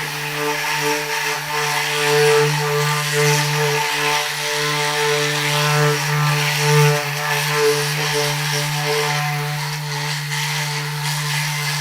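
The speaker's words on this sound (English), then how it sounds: "So I'm just cruising right along sanding." A steady mechanical whir of an orbital sander hums continuously with a low droning tone, close and fairly loud, sanding a wall without pause.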